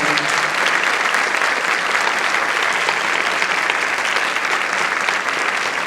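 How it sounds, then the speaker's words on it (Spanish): Strong, sustained applause from a conference audience at CIP 2019 in San Juan, Argentina, welcoming the first afternoon lecturer, a loud, even roar of many hands throughout with no talking. "Lo recibimos con un fuerte aplauso."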